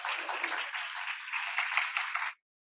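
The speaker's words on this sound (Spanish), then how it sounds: "Un fuerte aplauso a la doctora Kazuko" Audience applause greets Dr. Kazuko before her lecture on prions, a steady dense wash of clapping that holds at an even level for over two seconds and then cuts off abruptly into silence.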